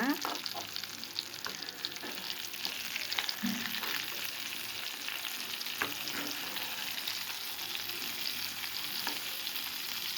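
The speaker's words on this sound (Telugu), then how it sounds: "వంకాయ కూర వండుతున్నాం" Brinjal curry sizzles and crackles steadily in a pan, a continuous close frying hiss with small pops and occasional stirring scrapes, no voices.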